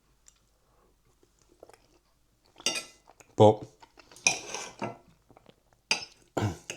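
Metal cutlery scraping and clinking on a microwave meal tray while beans and gravy are added, intermittent close clatters and chewing-like scrapes after a quiet start, with a single spoken word.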